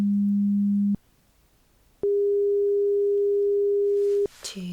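Pure hearing-test beep tones play alone: a steady tone about a second long, a pause, then a longer higher tone, cut off by a brief softer rustle at the end.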